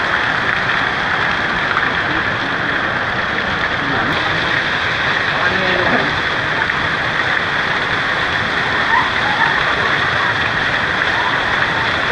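Strong water rushes steadily and loudly, a continuous broadband roar without pauses, close by.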